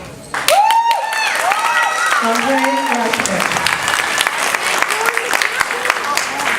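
An elementary school graduation audience breaks into loud, sustained clapping from many hands, filling the hall after a short spoken moment, while a person talks and cheerful voices rise over the applause.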